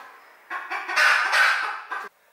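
Pet hens in a backyard cluck and squawk in a steady run of loud, close calls for about two seconds, then fall quiet.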